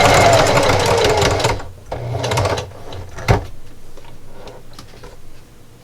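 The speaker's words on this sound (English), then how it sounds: "I'm going to sew all the way around." A home sewing machine stitches a quarter-inch seam allowance around a grippy jar opener, a loud fast whirring run that stops, then shorter bursts and clicks as the fabric is adjusted.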